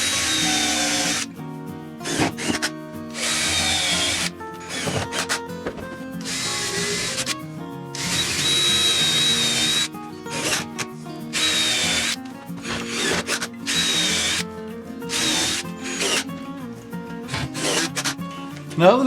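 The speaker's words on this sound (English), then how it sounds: "I can go ahead and I can drill and countersink for the screws and then put the screws in" A power drill countersinks and drives screws into wooden storage bin shelves, with repeated bursts of whirring separated by short pauses, loud and close.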